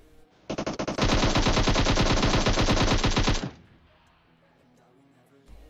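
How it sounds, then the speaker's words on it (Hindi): M762 rifle in PUBG Mobile fires a long rapid automatic burst, a few spaced shots then about three seconds of loud continuous rattling fire, cut off abruptly and followed by a quiet tail with a faint thump. "जो मेरा टीममेट ये M762 चला रहा है ना, इसकी आवाज इतनी तेज आ रही थी कि क्या बताऊं।"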